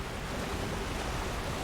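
A waterfall in Elden Ring rushes with a steady, broad roar of falling water, constant and moderately loud with no voices over it.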